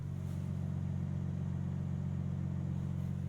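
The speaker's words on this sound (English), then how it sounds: "That is quite the startup rumble, and the idle is very deep." A BMW M3 CS engine idles just after startup with a deep, steady, throbbing exhaust rumble, close and continuous with no talking.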